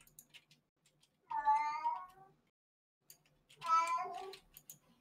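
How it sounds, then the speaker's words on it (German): A cat meows twice in the Minecraft modpack SkyFactory 4, two separate drawn-out, fairly close calls with a short quiet gap between them and faint background noises. "jetzt muss er erstmal wieder ein bisschen miauen"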